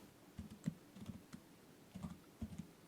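Fingers type Python code on a computer keyboard, giving soft, close clicks in short irregular bursts with brief pauses between groups of keystrokes, and no one speaks.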